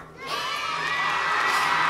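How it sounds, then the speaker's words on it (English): A studio audience breaks into cheering and whooping, a loud sustained burst of shouts and yells that swells and holds for a couple of seconds. "Is that applause I hear?"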